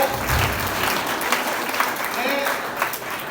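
Dense, continuous applause from an audience at a school theatre staging of Premchand's drama Bade Bhai Sahab in Rajouri, steady and fairly loud, with a voice partly over it.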